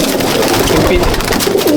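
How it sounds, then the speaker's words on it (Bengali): A domestic pigeon held in the hand inside a loft coos in low, throaty rolling phrases, close and loud over a busy background. "তার মধ্যে একটা পায়রা আমি ধরে দেখাচ্ছি।"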